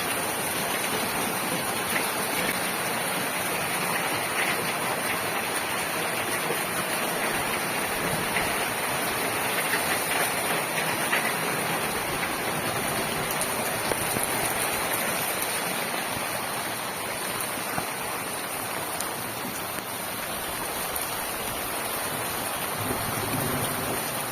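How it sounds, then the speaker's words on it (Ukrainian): Steady rain falling over a flowering garden, a constant dense hiss of drops on leaves and surfaces, even and moderately loud throughout, with no talking. "почався в нас отакий дощик."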